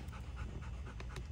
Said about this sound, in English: but the dog still wants to play